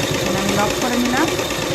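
A sewing machine stitches a salwar with a steady, dense mechanical whirr that stays loud and continuous through the short stretch, close up and uninterrupted.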